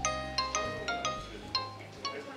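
A phone ringtone chimes in a quick, bright melodic pattern of repeated notes, fairly faint and alone.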